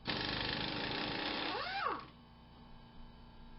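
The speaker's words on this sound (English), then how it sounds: "And of course the compressor has to kick on." An air compressor running in a garage during strut work on a 1986 VW Golf, a steady close mechanical drone that winds down with a falling pitch sweep and then settles into a quieter hum, no talking.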